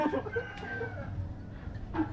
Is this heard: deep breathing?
no